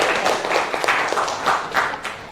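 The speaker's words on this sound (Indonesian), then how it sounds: "Beri tepuk tangan dulu untuk semuanya." A classroom of students breaks into applause for their classmates, a close, dense patter of many hands clapping that swells and fades in waves before tailing off.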